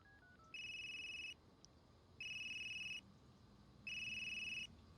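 Brief dialing tones open a phone call in the video game Unheard, then three evenly spaced, electronic ring bursts sound steadily over a quiet background, with no talk.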